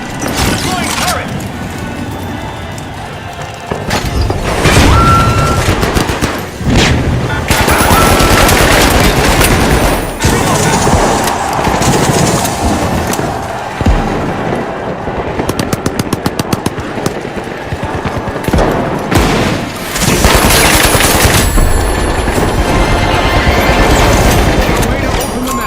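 Automated turret rattles off sustained bursts of gunfire in The Finals, loud and close, layered with explosions, crashes and a commentator's excited voice through most of the match action.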